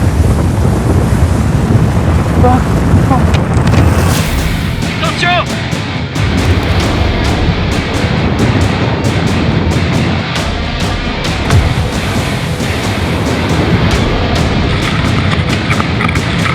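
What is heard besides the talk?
avalanche rumbling down a snowy mountain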